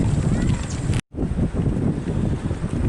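Heavy 60+ mph wind buffets the microphone in a constant rough roar, broken by a brief dropout of near silence before the blustering resumes.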